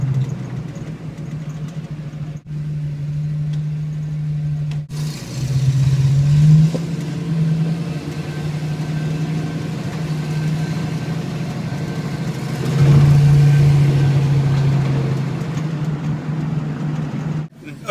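A 1971 Mustang Fastback engine runs steadily while driving, with a low rumble that swells twice as the engine revs up, then settles back to a steady drone.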